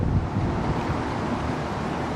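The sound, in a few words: wind gust blowing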